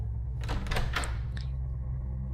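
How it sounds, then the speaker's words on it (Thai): A door being unlocked within a horror story podcast: a few close metallic clicks and rattles of a key turning over a low steady hum, then quiet. "มีเสียงไขประตู"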